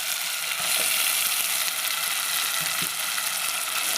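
Prawns hitting a hot pan of masala with ridge gourd, giving a steady broadband sizzle and frying hiss that runs the whole time, close and fairly loud, with a few faint clicks of the pan underneath.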